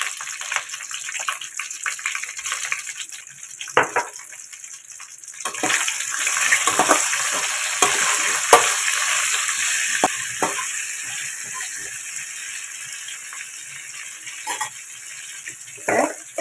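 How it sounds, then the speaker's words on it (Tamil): Chopped eggplant fries in a generous amount of hot oil for a spicy Chennai-style dish, giving a steady, moderately loud sizzle with occasional crackles and stirring clatter throughout. "கொஞ்சம் நிறையாவே ஆயில் விட்டுக்கோங்க, கொஞ்சம் கூட. கத்திரிக்காயை போட்டுக்கலாம்."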